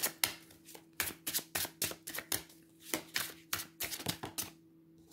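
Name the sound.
tarot cards being handled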